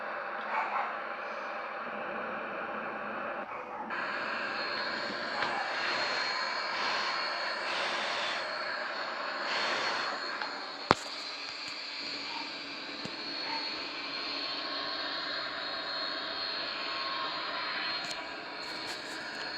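A steady, loud jet engine roar from a Boeing 737-800 in Microsoft Flight Simulator X, droning continuously on approach with brief clicks and one sharp tick.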